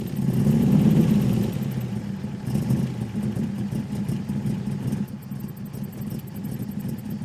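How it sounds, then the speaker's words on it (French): Engine of a vintage Amilcar C6 collector car running steadily, a low mid-range idle that swells at first, then settles into an even rumble, with no speech. "Archibald vint se garer contre un tertre à l'ombre d'un grand chêne et coupa le moteur de l'Amilcar C6, voiture de collection"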